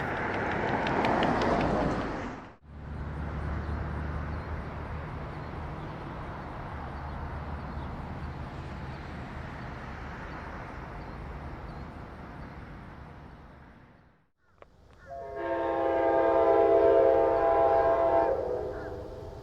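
A Norfolk Southern heritage locomotive, NS 1080, rolls loudly past Avondale Yard with a steady rumble of wagons, then after a brief lull a long, loud multi-tone horn blast sounds close by.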